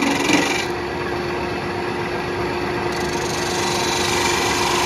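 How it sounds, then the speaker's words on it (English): Spindle gouge making light bevel-rubbing cuts on a turned wooden mouse on the lathe, a steady close scraping and hissing of the tool on spinning wood with a brief sharper catch at the start, continuous and fairly loud. "little bevel rubbing cuts from both sides"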